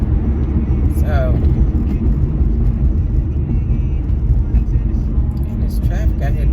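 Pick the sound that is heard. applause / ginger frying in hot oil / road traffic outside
road traffic outside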